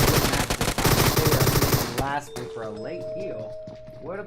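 Bursts of AK rifle fire crackle in a video game tournament match for about two seconds, then give way to game effects and chiming tones with voices in the background.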